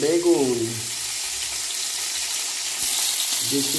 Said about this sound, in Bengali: দেখো আমাদের বেগুন ভাজা হচ্ছে আর রুটি